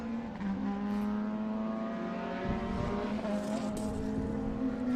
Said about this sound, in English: Looks and sounds fantastic, that car.